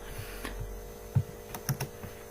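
Light typing on a computer keyboard while writing Turbo Pascal code, a handful of soft separate key taps spread irregularly, faint and close, with no talking.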